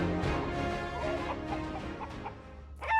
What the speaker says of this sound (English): It all started with one flock of chickens